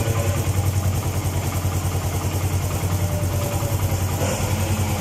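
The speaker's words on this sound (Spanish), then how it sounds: "vamos a escuchar cómo nos quedó sonando este motor" A Suzuki GN125 motorcycle engine runs at a steady idle after its cam chain has been tensioned, producing a close, loud, even putter with light mechanical clatter throughout and no voices.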